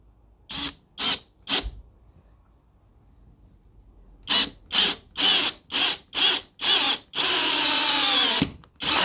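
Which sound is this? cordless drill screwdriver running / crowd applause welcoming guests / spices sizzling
cordless drill screwdriver running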